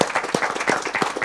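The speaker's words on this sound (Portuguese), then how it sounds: "Aplausos" An audience applauding at a community television program event, steady dense clapping at moderate loudness throughout the short stretch.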